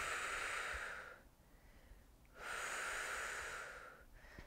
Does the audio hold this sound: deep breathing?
yes